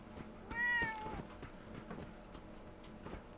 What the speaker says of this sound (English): What the hell are the cats doing here?